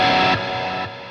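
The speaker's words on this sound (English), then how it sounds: "that's a digital distortion" Digital distortion from a 1980s Yamaha multi-effects processor on an electric guitar: a thick, buzzing sustained chord that rings loudly, then is re-struck twice with slight dips in level.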